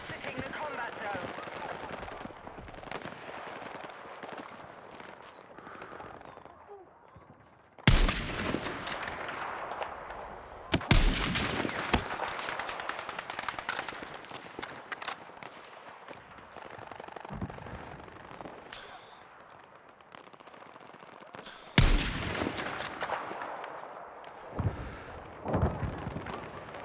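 Bursts of video game gunfire, sharp loud volleys of shots in several clusters with quieter stretches between, while a player talks over the action.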